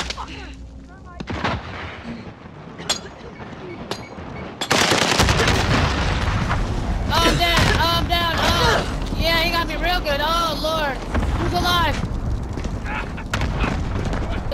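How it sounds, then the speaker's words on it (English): A grenade goes off in a chaotic multiplayer shooter, a sudden loud blast followed by sustained heavy gunfire and booms, with excited voices shouting over the din. "Throwing grenade!"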